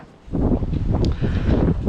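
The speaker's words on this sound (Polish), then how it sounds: "Ale wiatr wieje." Wind blows during an evening walk through Reykjavik, a loud, rough buffeting roar against the microphone that rises suddenly and stays strong, with no voices.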